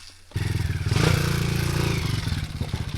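An enduro motorcycle rides a rough, potholed road, its engine pulsing loudly and close with rattling and clattering from the bumpy surface, rising sharply after a brief quiet start.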